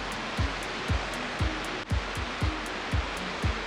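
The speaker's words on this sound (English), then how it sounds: "This is a hot water cascade" A hot water cascade in Yellowstone gives off a steady, loud rushing roar of falling water, with soft regular thumps beneath it.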